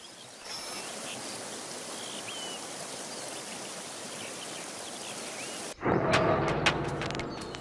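River rapids on Alaska's McNeil River rushing in a broad, steady roar that runs unbroken for most of the stretch, then cuts abruptly to a louder, closer splashing burst near the end.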